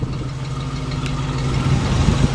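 A 1969 Ford Bronco U-100 4x4 with stock exhaust manifolds and dual exhaust idles steadily after starting, a low, even rumble held at constant loudness for the whole stretch with no talk.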